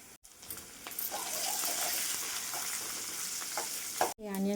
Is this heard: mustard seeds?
yes